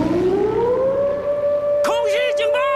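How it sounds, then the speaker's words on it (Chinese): Air raid siren in a war film depicting a Japanese bombing raid on Wuhan: a loud wail that rises and then holds a long, steady tone, with an urgent shouting voice breaking in over it near the end. "空袭警报！"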